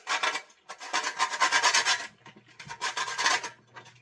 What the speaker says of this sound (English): This is my nutmeg. This grater, I'm gonna hold it properly this time